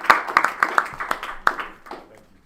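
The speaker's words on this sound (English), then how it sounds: "Quick round of applause for our delegates." Round of applause for delegates at the close of a case competition Q&A session, a burst of sharp claps that peaks early, with a few loud accented claps, then thins and fades out within about two seconds.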